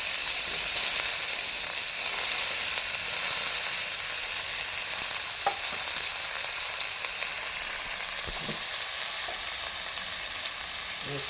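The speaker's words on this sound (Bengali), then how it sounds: "তেলটা গরম হয়ে গেছে, আমি ডুমুরের ঘন্টায় যে আলুটা দেবো, ওই আলুটা আমি একটু ভেজে নেব" Potatoes frying in hot oil in a pan, a steady, close sizzle and crackle that holds evenly throughout with a few faint stirring clicks and no voices.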